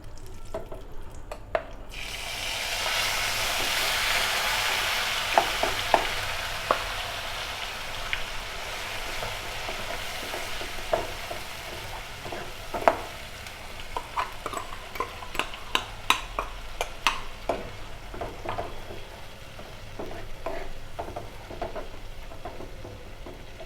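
Onion-tomato paste for chole masala fries and sizzles in a pan, with a steady hiss and repeated clinks and scrapes of a spoon stirring throughout, close and moderately loud with no talking.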